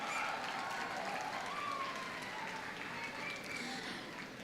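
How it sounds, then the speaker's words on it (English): An audience at a graduation day ceremony applauds steadily, with a dense, even wash of clapping that sounds somewhat distant and faint, holding at a constant level throughout. "Let's give a final thunderous applause to celebrate each one of you."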